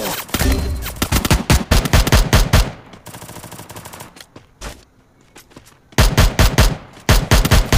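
Rapid bursts of automatic gunfire from a shooter video game, loud and close, in dense volleys that break off for a few seconds of quieter clatter before firing resumes.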